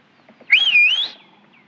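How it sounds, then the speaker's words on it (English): A person whistles a single clear, rising and falling tone lasting about half a second, loud and close, in a quiet setting with faint murmurs before it. "You know how to whistle, don't you?"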